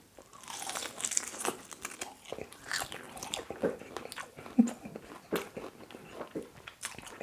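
Close crunchy bites and chewing of crispy salt and chilli soft shell crab dusted in flour, with irregular crackling crunches and soft mouth sounds spread through, no talk.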